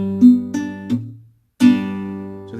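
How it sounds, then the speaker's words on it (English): Guitar chord picked on strings one, three, four and five, sounding as a handful of separate, clear plucked notes that ring and decay, with a short silent gap before a final strong pluck rings out. "And I'm going to pluck these strings,"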